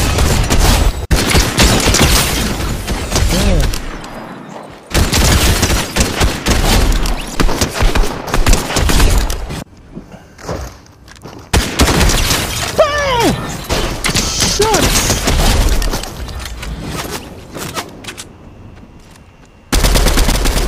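Rapid automatic gunfire and single shots from the Fortnite Chapter 3 video game, loud and dense in repeated bursts with brief pauses, mixed with game effects.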